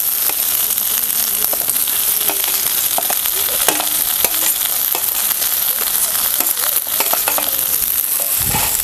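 Eggplant drops into a pan of frying garlic, giving a loud, steady sizzle and spatter with scattered scraping clicks from stirring throughout.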